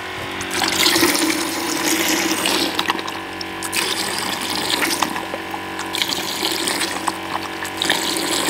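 Aerator running in bottles of water mixed with fishing-bait dye, a steady loud bubbling and splashing wash that continues unbroken throughout.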